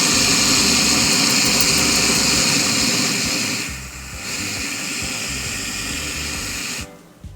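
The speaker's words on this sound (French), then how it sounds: "Et là je vais faire un test de combustion devant vos yeux ébahis" A JetBoil ZIP gas stove burner roars with a loud, steady hiss of combustion up close, briefly dipping around the midpoint before resuming, then cutting off abruptly near the end.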